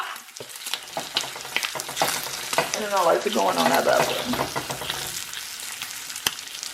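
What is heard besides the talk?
beef bacon sizzling in a pan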